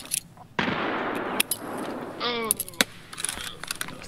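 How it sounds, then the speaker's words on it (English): A grenade goes off in a Tarkov-style shooter match on the Customs map: a sharp burst followed by a sustained crackling rumble, with scattered gunfire reports and clicks around it. "That was a great nade."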